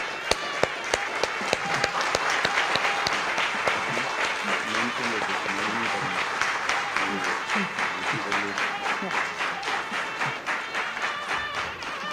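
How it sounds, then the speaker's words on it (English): Sustained audience applause fills a concert hall after a live Indian classical music tribute performance, dense and steady throughout, with a few sharp individual claps standing out and some crowd voices mixed underneath. "a huge round of applause for Dr. Mrs. Nalini Parameshwar"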